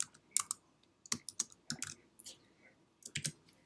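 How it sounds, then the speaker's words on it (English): Text is typed on a computer keyboard in short bursts of crisp key clicks with small gaps between them, close by and quiet, with no speech. "I'm going to type in Happy"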